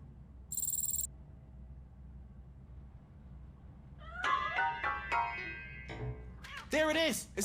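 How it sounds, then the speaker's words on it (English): A cat meowing in the video game Robocop Rogue City, several drawn-out cries toward the end of the clip, with a high electronic tone early on and quiet ambience between. "That cat must be hiding inside."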